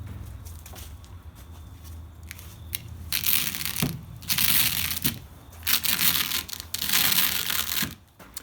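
Tyger roll-up tonneau cover rolled up on a 2015 Ford F-150 bed, with crinkling, rustling and crunching of the vinyl cover in uneven bursts, close and fairly loud, no talk.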